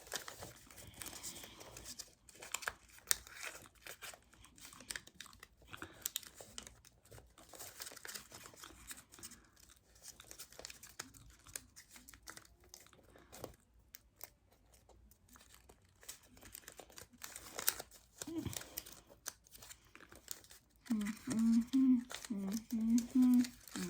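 Paper folded by hand into an origami squirrel, soft intermittent crinkles and creases close up, with quiet gaps and a brief voice near the end.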